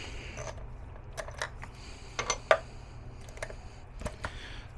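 A wrench tightens the bolts on a Dometic RV toilet. Faint, scattered metallic clicks and light creaks sound up close against a quiet, low hum, with no speech.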